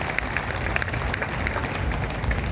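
Sustained applause from an audience at an all-India poetry gathering during the Kajali Teej festival in Bundi, steady dense clapping filling the whole stretch at even volume.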